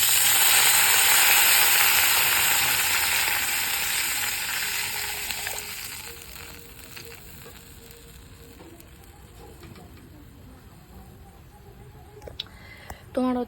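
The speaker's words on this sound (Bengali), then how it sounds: "জল দিয়ে দিচ্ছি।" Water is poured into a hot pan for cooking Maggi noodles, setting off a loud hissing sizzle that slowly dies down to a quiet simmer with faint clinks near the end.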